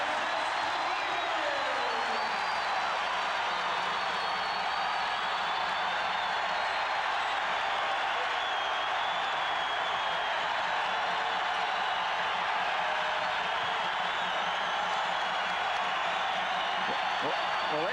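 Crowd noise roars continuously through a 1995 Iowa State vs Oklahoma State NCAA basketball game arena, a loud sustained cheer that holds for the whole stretch.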